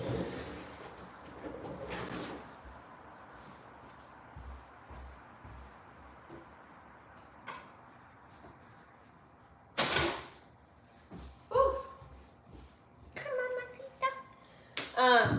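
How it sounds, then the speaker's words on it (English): An indoor door is handled and shut: a few sharp knocks and thumps scattered among rustling, with a person talking intermittently close to the microphone. "Hold on, let me close this door, you guys."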